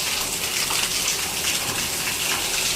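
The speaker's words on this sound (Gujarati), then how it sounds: "ધબધબાટી બોલાવે છે વરસાદ હવે" Heavy monsoon rain pours down in a dense, continuous rushing gush of water, steady and close throughout with no pauses.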